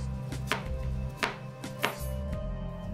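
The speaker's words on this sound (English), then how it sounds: "For the daikon, just peel and cut into half-inch slices." A knife slices peeled daikon radish into half-inch rounds, three sharp chopping strikes landing at an irregular pace over a steady low kitchen hum.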